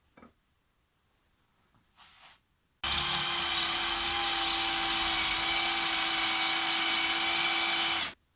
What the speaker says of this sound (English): Drilling into end grain with a not so sharp Forstner bit, it does take some time.